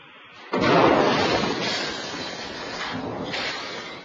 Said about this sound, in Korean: 미국 컨트리 음악의 본고장 내슈빌 시내 한복판에서 굉음과 함께 차량이 폭발합니다